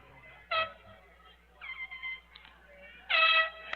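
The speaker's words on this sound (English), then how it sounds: "find the air horns and take them away from the people on the far sidelines" Several loud air horn blasts from the sidelines of a high school football game sound in short bursts at a distance, separated by gaps, with a faint low hum beneath.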